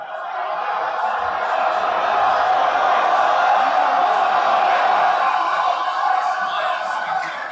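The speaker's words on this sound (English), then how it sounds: "That is a loud ass crowd" Wrestling crowd at WWE Money in the Bank 2023 in London, a loud continuous roar of massed voices chanting in unison, sustained and dense throughout with no break.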